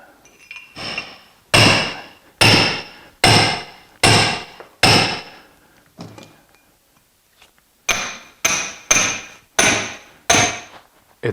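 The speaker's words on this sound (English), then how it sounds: "We just want to put a wedge in here and break it." Sharp metallic hammer blows drive a chisel used as a wedge into an olive trunk to split it, a run of evenly spaced ringing strikes, a short pause, then another quick series, close and loud.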